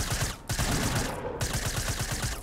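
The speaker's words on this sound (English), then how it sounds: "I want to shoot these kids up here" Rapid bursts of automatic gunfire in Fortnite, loud repeated shots in quick rhythmic strings with a brief gap, sounding close and dominating, no talking.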